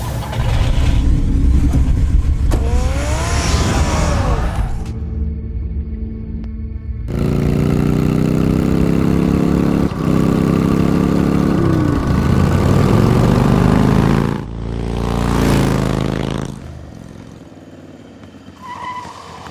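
A car engine cranks, roars and revs in a loud, close, sustained run, rising and falling in pitch as it pulls away before fading toward the end, with no voices.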